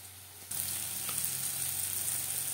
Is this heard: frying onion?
yes